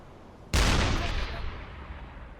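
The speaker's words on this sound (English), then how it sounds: "Hey, stop firing!" A single sharp, loud blast of deck-gun fire in UBOAT, striking suddenly and decaying into a long rolling echo that fades over a couple of seconds.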